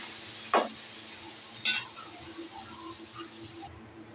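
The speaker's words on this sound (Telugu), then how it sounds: "ఎల్లిపాయ, పచ్చగడ్డ, ఎండుమిరపకాయ, పచ్చిమిరపకాయలు మంచిగా గోలాలి." Garlic, onion, dried red chillies and green chillies fry in a pan for a peanut chaat, giving a steady soft sizzle with a couple of brief stirring scrapes and no voices.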